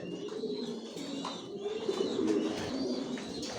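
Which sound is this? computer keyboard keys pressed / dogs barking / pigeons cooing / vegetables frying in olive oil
pigeons cooing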